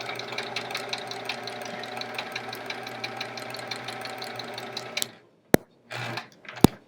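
A sewing machine stitches through quilt layers in a fast, even run of needle strokes for about five seconds, then stops, followed by a few short clicks and a brief burst.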